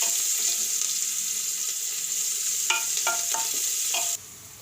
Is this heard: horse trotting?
no